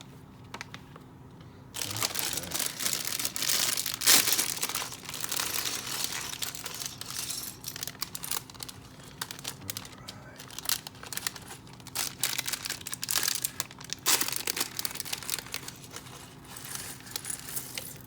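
Plastic bags holding pieces of Lego set 76387 Hogwarts Fluffy Encounter are handled and torn open, giving close, repeated crinkling and rustling bursts with small rattles of loose parts and only faint speech.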